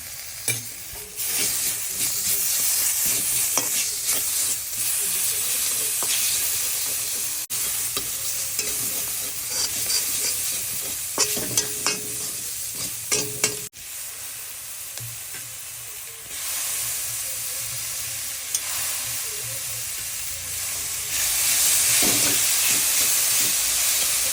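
Vegetables frying in a pan with ginger paste for pav bhaji, a loud steady hiss and sizzle broken by scraping stirs, with no talk.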